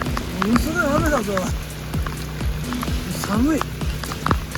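Heavy rain pelts an outdoor parking lot in Nagaoka where snow-melting pipes are being installed, a dense, close spattering of drops on hard surfaces with a voice speaking over the steady downpour.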